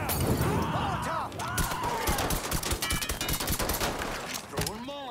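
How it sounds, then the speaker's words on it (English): In the Mafia III video game, a Molotov cocktail is hurled and shatters with sharp glassy bursts amid dense, rapid gunfire, a chaotic firefight of cracking shots and breaking glass with no pause. "Throwing Molotov!"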